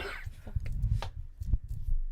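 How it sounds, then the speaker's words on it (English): A person nearby coughs in a short, rough cluster of bursts while smoking a blunt, each cough low and throaty with quiet breathy gaps between them. "I'm coughing."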